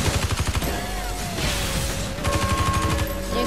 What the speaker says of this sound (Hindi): ले लो हर तरफ से गोलियां मारेंगे यार